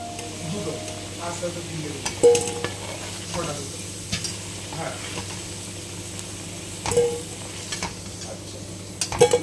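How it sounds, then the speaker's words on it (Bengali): Potatoes frying in a pan with steady sizzling and occasional stirring clatter, a few sharper knocks of a utensil against the pan, continuous and moderately close. "এই আলুগুলো ভেজে নেব"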